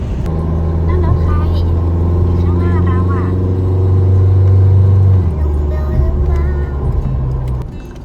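A car climbs a winding mountain road toward a hilltop near Bo Kluea–Sapan in Nan province, Thailand, its engine a steady, close drone that swells and eases on the bends, with people talking inside throughout.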